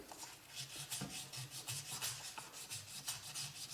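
A Venetian glass bead is rubbed back and forth on wet or dry sandpaper, making a faint, steady gritty scraping in close, regular strokes with no speech.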